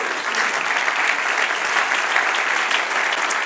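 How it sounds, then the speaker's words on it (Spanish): A church congregation bursts into steady, dense applause during a Spanish-language sermon, the clapping continuous and fairly loud throughout with no voices standing out. "Dale un aplauso al Señor si entendió."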